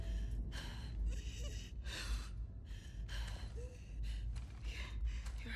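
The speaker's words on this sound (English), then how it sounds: "Your breathing's worse." A wounded character in The Last of Us Part II breathes in laboured, ragged gasps, a series of heavy rhythmic inhales and exhales, close and fairly quiet over a low background rumble.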